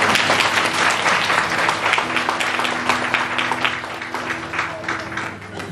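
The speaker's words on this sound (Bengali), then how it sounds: "প্রভুজনের জন্য করতালি।" An audience at a Christian devotional gathering breaks into sustained applause, dense clapping filling the space for several seconds before slowly thinning, with a faint steady hum underneath.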